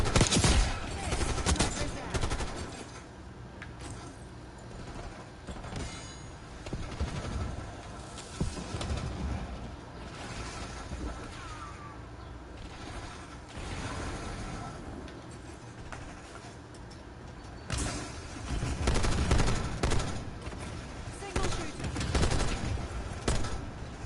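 Gunfire in the video game Call of Duty Black Ops 6, with repeated bursts and volleys of shots over a busy game soundscape, loudest near the start and end.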